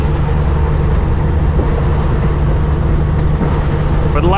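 Semi truck hauling a load of lumber pulling away, a steady low diesel drone and cab rumble heard from inside, constant and loud, with a brief voice near the end.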